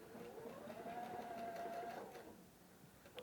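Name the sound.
Husqvarna Viking Designer Epic 3 sewing machine stitching a buttonhole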